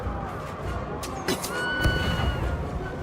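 A horse neighs in the video game Banner Saga during battle, a short rising whinny amid game sound effects and thuds, moderately loud and brief.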